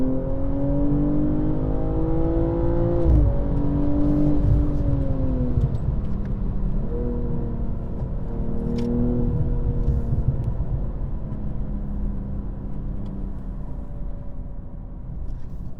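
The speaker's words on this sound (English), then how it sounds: "So that's what it sounds like in sport mode inside." BMW M240i xDrive engine in sport mode heard from inside the cabin: a steady, loud droning growl that rises in pitch through several gear changes, with brief dips at each shift, continuous and without talk.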